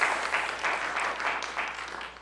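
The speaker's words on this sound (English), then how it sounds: "A round of applause for Sarah." Audience applause at a Moonshot lecture event welcoming the presenter, a steady wash of many hands clapping at moderate distance for a couple of seconds.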